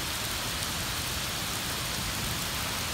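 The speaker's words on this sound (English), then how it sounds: "still raining really good, really hard" Heavy rain falls hard during flooding, a dense, unbroken hiss of drops hitting surfaces. It stays even and constant throughout, with no voices over it.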